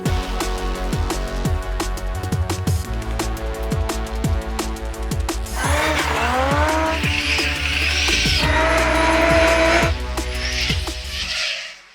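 A Toyota GT86 drifting sends out loud, sustained tire squeals that rise and waver over a pulsing, revving engine, close and continuous before fading at the end.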